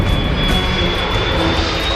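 Airplane engines roar loud and steady during a landing attempt in extreme weather, a continuous powerful drone with a faint high whine running under it and no voices.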